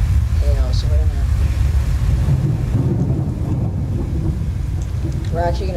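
Hail storm with thunder in the Roblox game Twisted: a dense, steady broadband roar of wind and pelting precipitation fills the scene, with low rumbling underneath and brief voices speaking over it.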